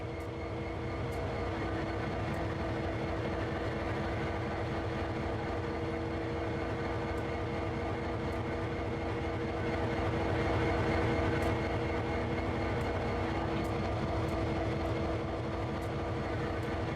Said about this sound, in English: using the rotation control, turn the table and locomotive to the indicated track